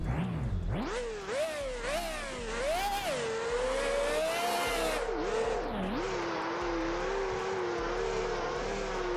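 A Lexus engine in Test Drive Unlimited 2 revs hard through several rising gear pulls, then settles into a steady high drone, loud and close throughout with no talking.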